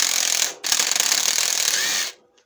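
An air impact gun loosens bolts on a Kawasaki ZZR600 engine during a workshop strip-down: a loud, close, continuous rattling burst, a brief pause, then a second long burst that cuts off sharply.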